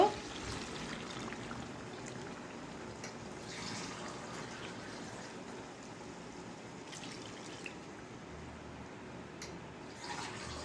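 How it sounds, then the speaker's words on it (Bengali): Water is poured into a pot of browned country chicken and potatoes for a thin curry, a steady soft trickling splash running continuously and fairly quietly, close by. "এখন জল দিয়ে দিব"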